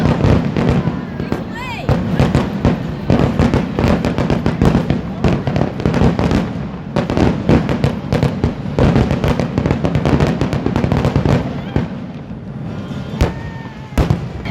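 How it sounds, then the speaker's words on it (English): A fireworks show at California's Great America amusement park, with dense, continuous bursts and crackling pops going off loudly and steadily for the whole stretch, mixed with crowd noise and some voices. "let's go see if we can make the fireworks show"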